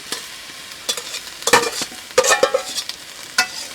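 Boiled taro stolons being stirred into a frying spice paste for a hilsa fish curry, with sharp spatula scrapes and clatters coming in uneven bursts over a light sizzle, close and fairly loud.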